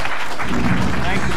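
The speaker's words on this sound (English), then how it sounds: "I would like you to join me in a round of applause for their contributions" Audience applause at the end of a panel discussion, a short loud burst of many hands clapping that fills the moment evenly.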